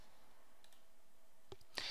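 Computer mouse clicks in a quiet office, a couple of faint single clicks followed by a sharper, louder click near the end.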